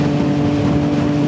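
A Triumph Street Triple 765 RS motorcycle accelerates, its engine giving a loud, steady, close-up roar with no pauses across the short moment.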